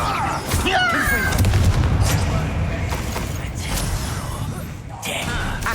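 Confringo fire spell cast in Hogwarts Legacy, a loud fiery burst with crackling, booming impacts and creaking mechanical noise over roughly six seconds of game sound, with no talking.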